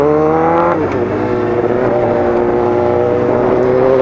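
A loud Suzuki GSX-R750 motorcycle engine revs hard close by, pitch dropping after a gear shift then climbing again in a sustained high-revving whine.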